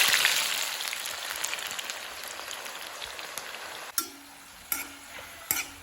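Papaya chips frying in hot oil make a busy crackling sizzle that fades, followed by three sharp metallic clinks of a slotted ladle against the pan.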